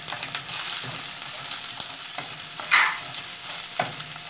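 Garlic frying in a little butter in a pan gives a steady bright sizzle, punctuated by several soft stirring scrapes and one louder spitting burst partway through.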